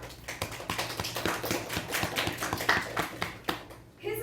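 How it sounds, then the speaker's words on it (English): An audience at a youth leadership program event gives a round of applause, a dense patter of many hands clapping at once, close and steady, then easing off at the end. "Big round of applause."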